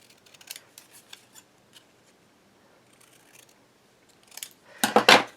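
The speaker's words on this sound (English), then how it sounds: "we're going to draw and then cut. And we just cut on the lines for that." Scissors cutting along drawn lines of a paper pattern, a series of light crisp snips early on, then a louder cluster of close, sharp cuts near the end, with no speech.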